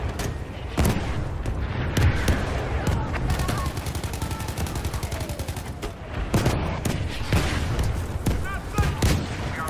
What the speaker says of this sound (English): So that's what an airstrike looks like.